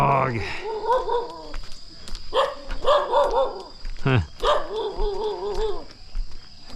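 A dog barks and whines in short repeated bursts near the Nungnung waterfall in North Bali, heard fairly close, with a person briefly speaking between the sounds.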